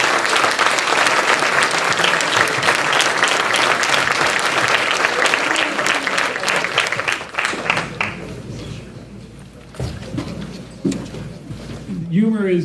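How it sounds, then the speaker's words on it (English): Audience applause fills a room at a youth awards dinner, loud and sustained for about eight seconds before thinning to scattered claps under talk and stray background noise. "Great round of applause."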